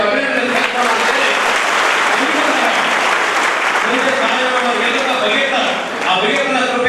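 Sustained audience applause at a Uppar youth community event in Gulbarga, dense and loud clapping filling the whole stretch with a slight dip near the end.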